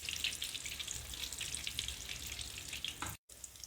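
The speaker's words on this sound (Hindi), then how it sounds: "दो से 3 मिनट अंडों को हम घी के अंदर फ्राई करेंगे" Eggs frying in hot ghee, giving a bright crackling sizzle with popping bursts that runs steadily and close, then cuts off briefly near the end before resuming, no speech.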